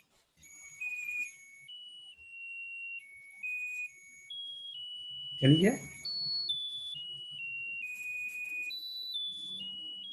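A small IC music box powered by homemade charcoal batteries plays a thin, electronic birthday tune as a series of beeping tones. A person briefly speaks over it partway through, and the melody is quiet but clear.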